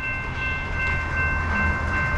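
Freight train rolling slowly past trackside on a CSX or NS line in New Jersey, a steady loud low rumble with sustained tonal whine above, no clear horn blasts.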